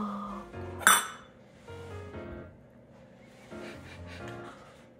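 A metal madeleine baking pan is handled in a kitchen, giving one sharp bright clink followed by softer knocks and rattles, close and moderately loud, with no voices.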